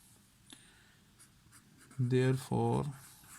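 Soft scratching of writing on a board during a maths lecture, faint and intermittent under a quiet room, followed by a brief burst of a speaking voice near the end.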